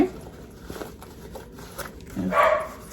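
A pet dog barks in a home, a couple of short barks near the end louder than the rest, under a low indoor background with faint rustling.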